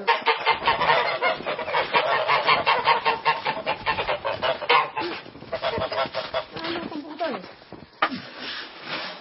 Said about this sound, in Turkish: Buradan kazlara, kazlara tavuklara hepsine beraber veririz.